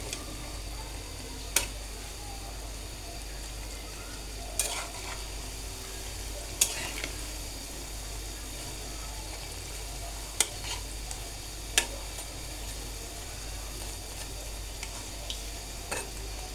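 Banana pitha cakes fry in oil with a low, continuous sizzle, broken by a few sharp clicks or taps spaced several seconds apart, with no one speaking.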